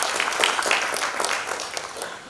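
Applause from an audience at a civic leadership incubator graduation ceremony, a steady wash of many hands clapping, fairly close and continuous throughout without a break.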